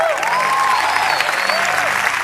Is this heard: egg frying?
no